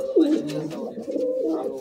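A pair of pet pigeons of an old bloodline, kept in a loft in Behala, Kolkata, give soft throaty coos, close and clear in a short burst.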